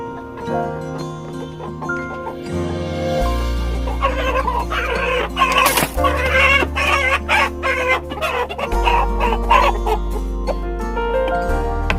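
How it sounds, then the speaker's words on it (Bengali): A native Bangladeshi fighting rooster clucks and crows on a farm, loud and close, with repeated calls over a steady low hum and faint music-like tones in the background. "এটা একটা দেশি মোরগ, দেশি ফাইটার মোরগকে তৈরি করা হচ্ছে যাতে খেলা করা যায়, মোরগ খেলার জন্য।"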